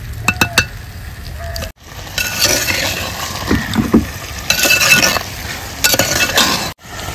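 Mutton gets stirred in a clay pot while it cooks down, with repeated scraping clinks of a utensil against the pot and a soft sizzle between strokes, close and fairly loud.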